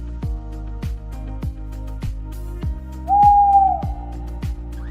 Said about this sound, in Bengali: এটা হলো পেঁচা। পেঁচাকে ইংরেজিতে বলে আউল।